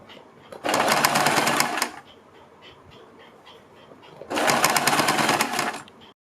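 A sewing machine stitches a fabric strip for a suit or kurti neckline in two loud, steady bursts, each lasting about a second or more, with a quiet pause between them.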